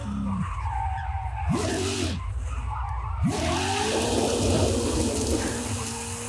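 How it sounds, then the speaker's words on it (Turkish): A car drifts sideways in Forza Horizon 5, tires squealing and skidding in loud repeated swoops over a steady engine and road roar, with no speech. "Bu da tam var ya Ankaralı iş oldu ha, böyle yan yan gidiyoruz bakalım."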